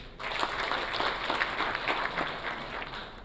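Applause at a literary awards ceremony, a dense even patter of many hands clapping, moderately distant and sustained throughout, with no talking over it.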